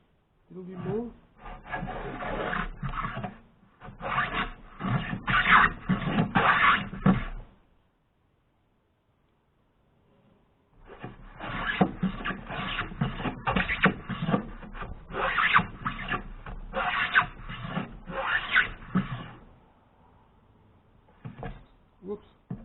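A restored Stanley No 4 hand plane shaving wood: repeated rasping strokes in two bursts of several seconds each, separated by a quiet pause, fairly close and moderately loud.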